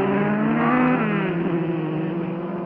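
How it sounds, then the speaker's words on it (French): Vintage racing cars roar past on a circuit during the Glover Trophy, one being the number 8 Maserati, a loud close engine note with a falling pitch as it passes, with other motors behind. "Le numéro 8, la Maserati de Russell, qui doit être actuellement en 5e position."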